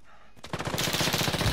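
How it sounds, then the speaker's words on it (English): Automatic gunfire in Call of Duty: Warzone starts after a brief quiet lead-in and then hammers as a rapid, loud, even stream of shots that keeps going to the end. "I'm taking fire!"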